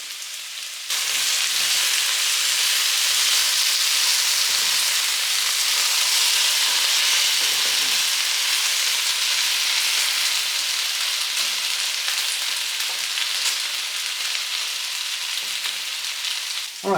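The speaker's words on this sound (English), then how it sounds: "while the potatoes are frying" Potatoes fry in a pan with a loud, continuous sizzle that starts abruptly and holds steady for the whole stretch, with no voices.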